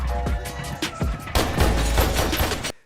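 Gunfire rings out during a bank robbery in the 2018 film Reprisal, a dense loud run of shots and booming impacts under a tense musical score, cutting off abruptly at the end.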